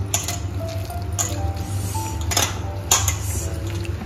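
Chicken bhaji batter being mixed by hand in a bowl in a home kitchen, giving soft wet squishing with a few sharp clinks of utensils against the dish, close and steady over a low background hum.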